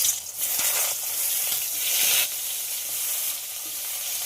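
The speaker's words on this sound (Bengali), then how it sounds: "এবার নুন হলুদ মাখিয়ে রাখা পটলগুলো দিয়ে দেব ভাজার জন্য" Salted, turmeric-coated pointed gourd pieces frying in hot mustard oil, a steady close loud sizzle and crackle with a brief burst as they hit the oil, no voices.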